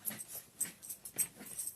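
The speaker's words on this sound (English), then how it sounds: "I have a puppy dog making noises in the background." A puppy grunts and snuffles while scooting and arranging her bed, a series of short, soft, breathy bursts close by with faint rustling between them, and no talking.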